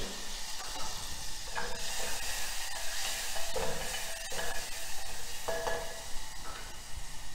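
Ghee with ginger-garlic paste sizzles and hisses steadily in a hot handi, a loud, unbroken frying sound with occasional stirring scrapes and no voices.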